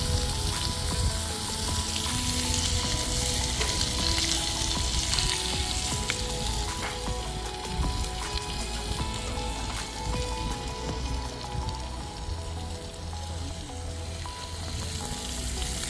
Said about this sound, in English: So this is how you cook steak the American way